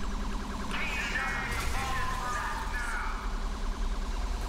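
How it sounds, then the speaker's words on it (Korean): A police siren wails in GTA V, a rising and falling electronic tone that sweeps up and holds over steady game engine and traffic noise, with a player talking over it. "뭐야, 사이렌?"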